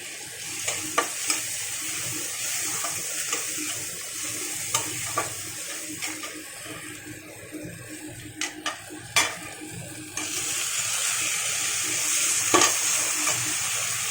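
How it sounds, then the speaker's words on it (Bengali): Onion and tomato sizzle steadily in a pan as a spoon stirs them, with scattered clinks of metal against the pan and a slightly louder, broader hiss in the last few seconds. "পেঁয়াজ আর টমেটোটাকে বেশ সুন্দর করে একটু হালকা করে নাড়াচাড়া করে ভেজে নেব"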